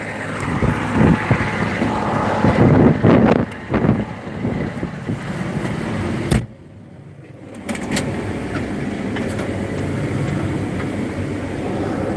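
A tractor engine drones steadily while plowing a sandy field on a hot day, with wind buffeting the microphone and a brief drop in noise partway through before the engine rumble resumes.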